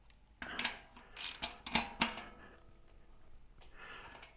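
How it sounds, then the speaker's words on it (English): A socket wrench ratchets a bolt tight on a Mini Goat power bike, giving a handful of close metallic clicks and clacks spread over about two seconds, then a quieter rattle toward the end. "And then we'll take our socket. We want that one on there really tight."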